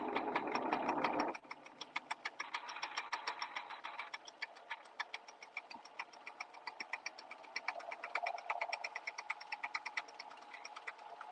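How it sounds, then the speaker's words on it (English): A serger-style sewing machine stitches a two-thread chain on knit fabric, running steadily with a fast, even mechanical ticking throughout, close and fairly loud after a brief louder start. "And just sewing."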